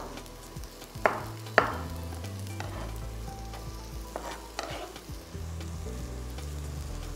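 Broccoli and other fresh vegetables fry and sizzle in a pan, a steady hiss broken by a couple of sharp clatters early on as they are stirred, with no talk.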